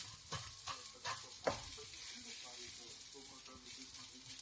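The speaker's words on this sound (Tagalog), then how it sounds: "At nagluluto ako ng aming breakfast. Sinangag, tsaka yung itlog." Garlic fried rice and eggs fry in a home kitchen at breakfast with a steady sizzle. A utensil scrapes and stirs a few times early on, and a faint voice can be heard in the background.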